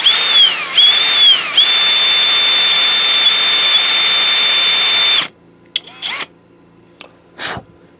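A power drill bores about 10 mm deep into a neck, whining loud and high at a steady pitch with a couple of brief dips. The motor then stops abruptly, leaving only a few short, scattered clicks and knocks.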